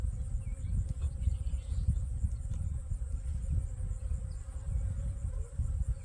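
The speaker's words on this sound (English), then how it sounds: "One bee coming out right there," Honey bees buzz steadily at a farm hive in winter, a dense, continuous low hum of many wings with individual bees droning close by, no voices over it.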